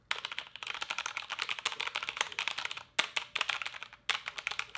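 Rapid typing on a Mountain Everest Max mechanical keyboard with Cherry Red switches, US International black version, close up. Bursts of quick, clacky keystrokes come in a steady flow with two short pauses. No voices.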